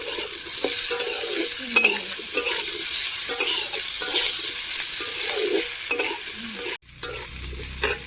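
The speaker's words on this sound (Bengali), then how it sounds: "আলুটা একটু ভাজা ভাজা হয়ে গিয়েছে, এবার দিয়ে দেবো একটু আদা বাটা" Potatoes with ginger paste are stir-fried in a pan, making a constant close sizzle with repeated scraping of the spatula, ending in a short thud and quieter hiss.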